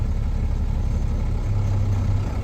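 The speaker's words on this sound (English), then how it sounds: "There, the engine began to pull down." An International 4900 truck's engine lugs under load against the tractor's brakes, a low, heavy, steady rumble close by that deepens and drones slightly lower toward the end.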